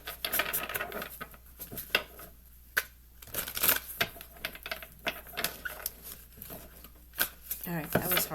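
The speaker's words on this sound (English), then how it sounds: "I'm going to shuffle again." Tarot cards shuffled by hand, with irregular crisp riffles and taps of the deck, soft and close in a quiet room, and a voice speaking between the bursts.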